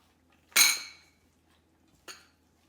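A bowl of vegetable pancake batter with green and orange bell peppers, onions and coriander being mixed, giving two clinking knocks: a sharp ringing one, then a fainter one about a second and a half later, in a quiet kitchen.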